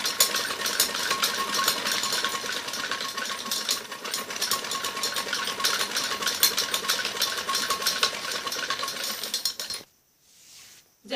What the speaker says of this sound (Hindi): ऐसे इलास्टिक को पूरा खींच के और ऐसे ऊपर लगा के हमें सीधी सिलाई लगानी होती है